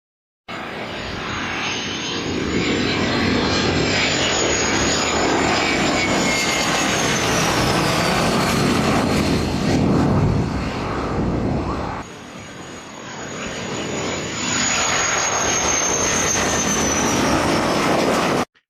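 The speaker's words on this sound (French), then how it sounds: "Des avions F-16 achetés à un pays d'Europe" F-16 fighter jets flying overhead, a loud sustained engine roar with a high whine that swells and shifts, briefly dipping midway before building again, with no voices.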